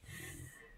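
A faint, short snuffling breath from a dog, a single soft snorting snore lasting under a second.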